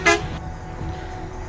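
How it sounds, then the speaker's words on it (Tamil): A single short honk from a bus horn in the video game Bus Simulator Indonesia, loud and brief, followed by a low steady engine hum. "அடுத்து பாருங்கள் ஃபஸ்ட்டு ஹாரன்"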